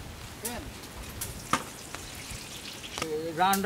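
Hot oil sizzles and crackles in a pan while masala for goat leg mutton biryani is being cooked, a steady close frying hiss with scattered pops and clatter.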